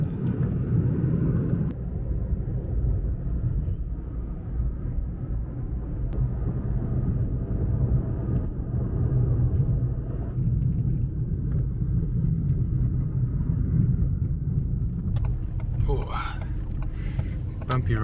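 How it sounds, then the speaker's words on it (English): Old Soviet-era vehicles rumble along a bumpy town road in Armenia, a steady low engine and tyre drone running continuously throughout, with a brief higher clatter near the end. "Some old Soviet vehicles driving along this road."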